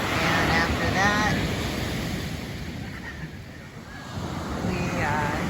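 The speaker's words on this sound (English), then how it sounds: "We're at the Pacific Ocean." Pacific Ocean surf rolls in near Fern Canyon in Prairie Creek State Park, a steady wash of breaking waves under wind, with people's voices heard briefly at the start and end.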